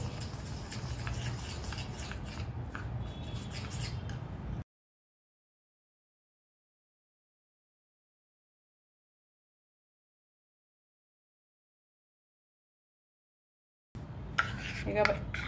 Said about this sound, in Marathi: तर मी वाटीत मिक्स करून घेते ताक टाकून